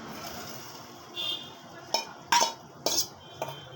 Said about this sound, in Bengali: এই যে ভেজে রাখা ডিমগুলো এবার এখানে আমি দিয়ে দিচ্ছি।